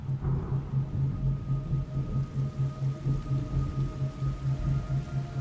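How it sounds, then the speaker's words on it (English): Soft steady rain patter in the video game Metal Gear Solid Delta under a low rhythmic thumping pulse and faint sustained tones, fairly quiet and continuous. "It's raining blood."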